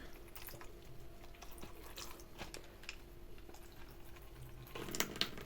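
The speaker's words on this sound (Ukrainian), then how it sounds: "От сюди я наливаю водички." Small trickles and drips of water poured into an orchid pot, faint and intermittent in a quiet room, with a brief fuller splash near the end.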